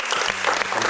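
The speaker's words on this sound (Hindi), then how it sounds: "So तालियां." Audience applause at a talk-show taping, a brief burst of dense, steady clapping from a crowd, close and fairly loud.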